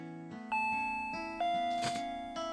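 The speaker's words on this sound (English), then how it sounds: "the doorbell rang" A doorbell chimes in the visual novel game Higurashi When They Cry Hou, a sequence of bright, ringing ding-dong tones that overlap and sustain, heard clearly with no talking.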